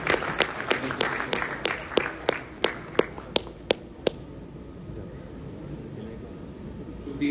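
Audience applause at a heart transplant presentation, a run of sharp, evenly spaced loud claps over a crowd murmur, fading out and leaving low room noise.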